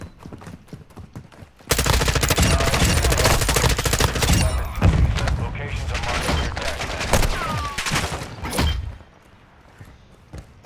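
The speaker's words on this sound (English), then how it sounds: "Why are these bots shooting me like this?" Dense, sustained gunfire from bot enemies in the video game DMZ erupts suddenly and pounds on loudly for about seven seconds, layered rapid shots and bursts, then cuts back to quieter game ambience.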